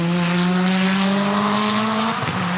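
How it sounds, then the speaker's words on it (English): Scion FR-S sports car at a Gridlife track day, its engine note droning loud and sustained with a gradually rising pitch before easing off near the end, heard at a distance. "That's the FRS."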